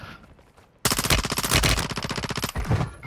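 Automatic gunfire in the Call of Duty: Modern Warfare II video game, a loud rapid burst of shots after a quiet moment, then a brief pause and another short volley, with no voices.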